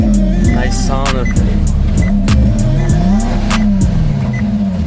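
Maserati engine revving in repeated rising and falling sweeps, throaty and close, with sharp blips between the pulls and a bit of talking mixed in.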